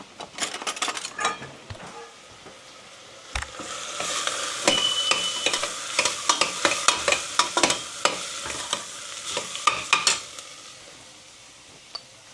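A spoon stirs khichdi of moong dal, tomato, turmeric and coriander-cumin powder in a sizzling pot, with quick repeated scrapes and clicks against the metal over a soft frying hiss.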